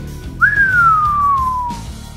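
A single long whistle from pursued lips starts sharply, peaks briefly, then glides slowly downward before fading out, clear and close over a low background murmur.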